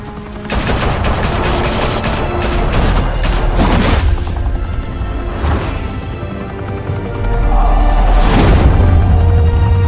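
Game gunfire in Batman: The Telltale Series, a sustained loud fusillade of rapid shots and booms with a few sharper blasts and a heavy burst near the end, no voices.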